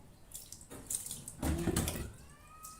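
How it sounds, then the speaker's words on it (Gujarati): Water is sprayed slowly onto a tyre to locate a puncture, producing soft hissing spray bursts that swell and fade, with a louder stretch in the middle, close and without talk. "ધીમે ધીમે ધીમે ધીમે પાણી સ્પ્રે કરતા જઈશું"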